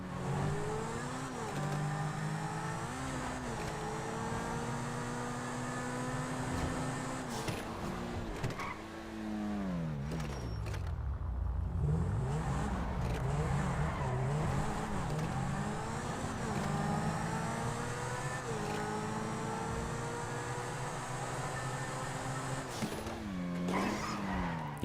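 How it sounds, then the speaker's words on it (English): A car in GTA V Online accelerates through its gears, the engine note rising and dropping with each shift, mixed with tire skids and squeals and a brief crash-like burst midway, continuous with no talking. "you can actually hear your character shifting the car as you change speeds"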